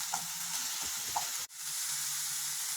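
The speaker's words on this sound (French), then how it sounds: "on rajoute les courgettes coupées en tubés. On continue de griller." Sliced courgettes sizzle and fry in a pan with mushrooms for lasagne, a steady close hiss with small stirring clicks and a brief break, no talking.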